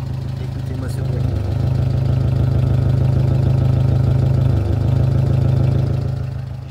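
A 1973 Renault 4L sits idling, its small engine giving a steady, close, slightly knocking drone that swells and then holds firm before easing off near the end.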